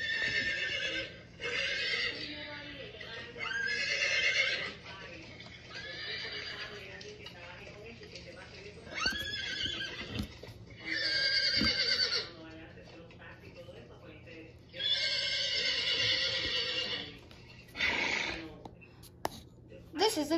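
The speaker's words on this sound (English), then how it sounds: "This is a horse." A horse whinnies and neighs in repeated loud, shrill bursts with pauses between, close by, while faint clip-clopping of hooves comes through underneath; a few soft knocks punctuate the quieter gaps.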